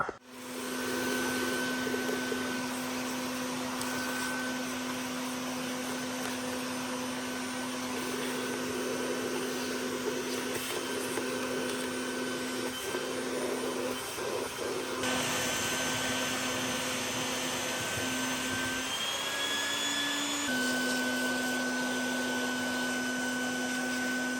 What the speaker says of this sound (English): Let's see if I can get a vacuum in there and suck all that out.